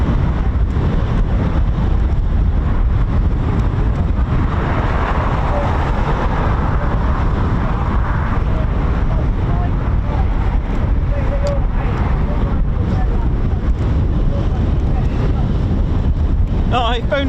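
Wind buffets a microphone at an airfield, RAF Coningsby, as a loud, constant low roar that runs unbroken throughout, with a voice faintly audible beneath it.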